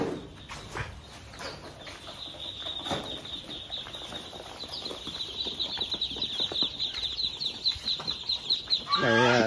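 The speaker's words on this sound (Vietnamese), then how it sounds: "đây có một cái bầy vịt đang nuôi giống khác nha" A flock of Muscovy ducks kept on a raised mesh floor at a duck farm, with a steady chorus of overlapping calls and chirps building in loudness over a constant high peeping, plus rustling and some flapping.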